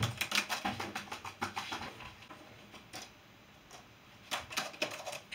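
Fast, irregular clicking of keys on a MacBook laptop keyboard, close and crisp, coming in bursts with a brief pause in the middle.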